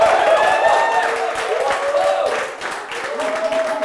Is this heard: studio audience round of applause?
yes